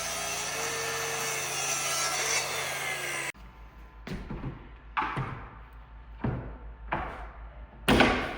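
Window trim being cut with a saw, a steady loud buzzing cut for about three seconds, then a run of separate knocks and clatters as the wood piece is handled, all close with no talking.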